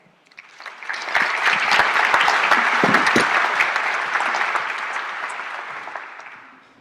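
An audience claps to welcome a speaker at a conference, steady dense applause that rises quickly, holds for several seconds and then fades away, with no talk over it.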